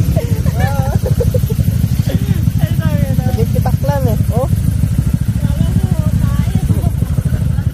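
A Honda Click/Vario scooter engine drones and putters steadily up close while the bike rides over rough off-road ground, with a rider talking over the engine throughout.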